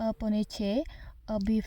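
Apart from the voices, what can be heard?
No everyday noise stands out behind the speech.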